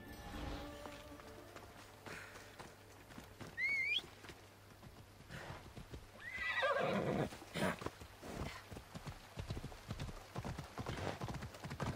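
A horse in the video game Assassin's Creed Odyssey trots with rhythmic clip-clop hoofbeats and lets out a couple of sharp neighs, set against a quiet game ambience.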